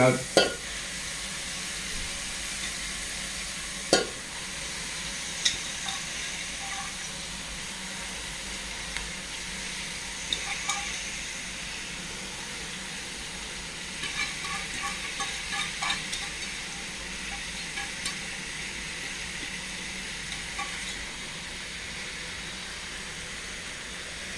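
Soft, steady frying sizzle of spinach greens with occasional stirring scrapes and clinks in a pan, continuing for a while with no voices.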